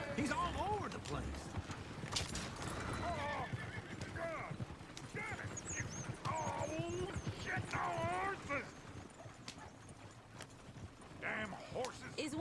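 Horses clip-clop and whinny in the Red Dead Redemption 2 video game, with hooves thudding irregularly and several neighs rising over the steady ambience while characters talk.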